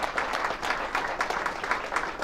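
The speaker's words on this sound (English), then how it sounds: "So a round of applause to all of them." A crowd claps steadily for a couple of seconds, a dense, even round of applause with no voices over it.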